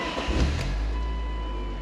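A car just filled up at a Costco gas station runs nearby with a steady low engine hum, a slight surge early on, then an even drone to the end.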